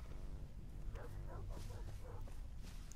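Several dogs in the video game Far Cry 3 bark and yip in quick bursts over a steady background hum, the barks close and overlapping.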